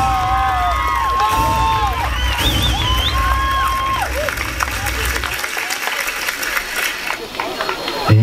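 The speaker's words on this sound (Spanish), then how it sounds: "Y fuerte los aplausos, pues hay que aplaudirle a los padrinos de honor también esos aplausos." Steady applause from a crowd at a quinceañera fills the clip, with whistles and voices over it, fading a little toward the end.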